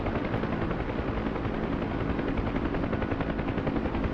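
A helicopter hovers in a mountain valley on a combat search and rescue flight, its dense, loud rotor chop pulsing steadily and filling the scene without a break, with no voices present.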